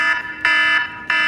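A 2018 Mercedes C300's security alarm sounds three loud, evenly spaced electronic tone bursts, each with a short gap between them.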